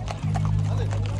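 Horse hooves clip-clop during a vaqueros horseback ride in Sonora, a steady rhythmic clatter of hoofbeats with a low engine-like hum beneath.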